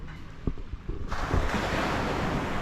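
Surf rolls in on the beach at Bucerias right in front of a hotel, a steady broadband wash that swells louder after the first second and holds as continuous roar with some wind.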